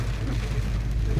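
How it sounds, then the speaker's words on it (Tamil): Heavy rain pours down steadily on a forest road in Karnataka, a dense, continuous hiss mixed with a low rumble, loud and even throughout with no voices. "ஒரு கடுமையான மழைப்பொழிவு."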